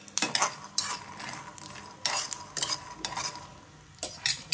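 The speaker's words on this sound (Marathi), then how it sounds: "शेंगा व्यवस्थित भाजून घ्यायचं। सुटसुट आवाज आला पाहिजे।" Peanuts dry-roast in a pan with no oil, heard as irregular bursts of rattling, scraping stirs and clinks of a utensil against the pan over a faint background, with quiet gaps between strokes.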